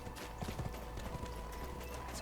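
Horse hooves clip-clop in the fantasy game Black Desert Online, a steady brisk rhythm of hoof strikes over constant game ambience and music, close and even.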